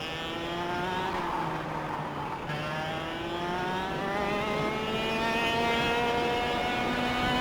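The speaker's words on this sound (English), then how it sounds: "Let's listen to the sound of these things. They sound so good." Several racing kart engines in KartKraft whine steadily together, pitches slowly rising and overlapping in a constant buzzing drone with no talking.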